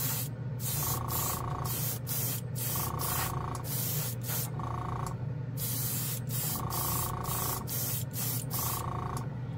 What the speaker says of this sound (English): we're spraying XF56 metallic gray, one of my favorite Tamiya colors